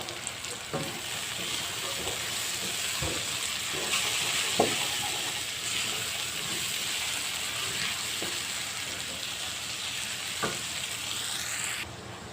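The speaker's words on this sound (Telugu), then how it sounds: "రెండు నిమిషాలు ఇలా బాగా ఫ్రై అయిన తర్వాత ఉడకబెట్టుకున్న శనగపప్పు కూడా వేసుకోవాలి" Boiled chana dal sizzles in hot oil as it is fried and stirred for chicken machboos, a steady close frying hiss broken by a few sharp scraping clinks of the spoon against the pan.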